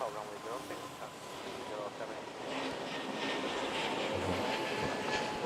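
A China Southern Airbus A321 taking off from a runway at Manila airport, a steady jet engine roar that swells toward the end, with wind buffeting the microphone.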